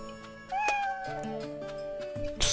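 A cat in Naruto Shippuden: Ultimate Ninja Storm 4 lets out a few clear, close meows over soft game music.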